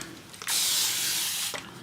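A spray bottle mists acrylic paints on a palette to keep them moist, giving one steady, close hiss that lasts about a second before cutting off.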